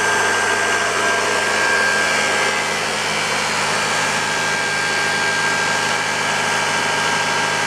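A car engine with a newly fitted exhaust runs steadily after sitting unused for a couple of months, a loud continuous idle drone that stays even throughout with no talking.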